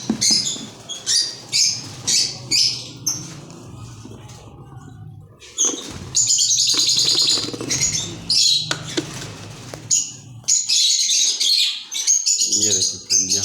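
Lovebird chicks in a breeding colony chirp in repeated high, thin bursts, fairly close, while someone talks over them.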